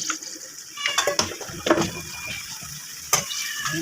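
Tap water runs into a cooking pot in a kitchen for mussels, a steady broadband splash with a few louder gushes and clanks, close and alone with no talking.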